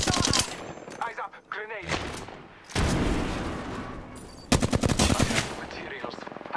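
Rapid automatic gunfire in the video game Apex Legends, bursts of close, loud shots with pauses between them, some explosive booms and game voice lines mixed in.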